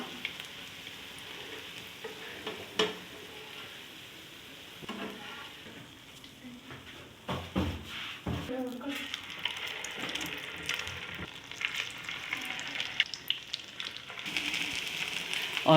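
Aloo chicken cutlets shallow fry in a little oil, producing a quiet steady sizzle punctuated by spatula scrapes and clinks as they are turned and lifted, growing louder toward the end.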